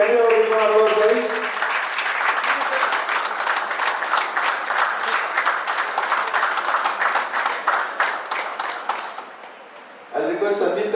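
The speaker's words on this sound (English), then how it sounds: "can you have a big round of applause," Audience applause at a business networking event, a loud crowd of clapping hands that rises after a short spoken phrase, holds steadily, then tapers off before a voice returns.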